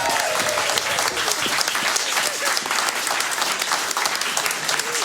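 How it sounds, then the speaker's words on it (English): An audience claps steadily, a dense, loud wash of applause that continues throughout without a break. "Of course, a huge round of applause to Michael and James in the box."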